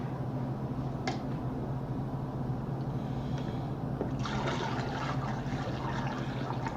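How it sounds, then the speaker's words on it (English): Hot wort poured into a fermenter while brewing a Mr. Beer recipe, a steady continuous liquid rush with splashy bursts building in the second half, close and alone without talk. "And we're pouring our hot wort into our fermenter."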